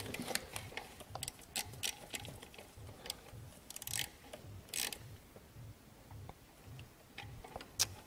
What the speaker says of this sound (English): Get them both snugged down good.